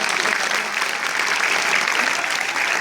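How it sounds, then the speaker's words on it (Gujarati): A seminar audience breaks into loud, dense applause that holds steady and unbroken throughout, with no talking over it. "જોરદાર તાળીઓ સાથે."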